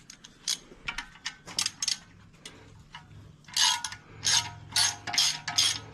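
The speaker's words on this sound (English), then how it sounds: "Now we can get that off, but he's gonna take the screw out over there." A screw is backed out with a ratchet during an LS-swapped Nissan Skyline R32 engine build, giving quiet bursts of rapid metallic clicking, first scattered and then in several steady, louder runs.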